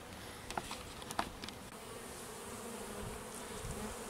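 Honeybees buzzing steadily around garden hives during an early-season first inspection, a dense continuous hum with a few nearer bees passing by briefly.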